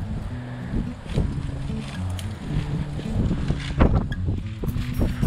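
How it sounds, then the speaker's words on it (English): Strong wind buffeting the microphone in low rumbling gusts, with a faint hum underneath and no voices. "It's so freaking windy right now."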